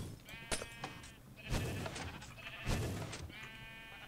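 Sheep bleat repeatedly in the Minecraft video game, several wavering calls spaced across the moment with a busy mix of game sounds and no talk.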